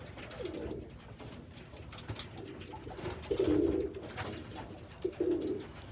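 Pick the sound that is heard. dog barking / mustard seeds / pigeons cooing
pigeons cooing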